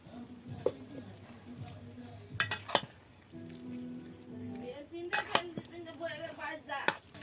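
Water spinach greens tossed in a hot frying pan make a gentle sizzle broken by sharp clinks and scrapes of the spatula, while a voice talks faintly in the background.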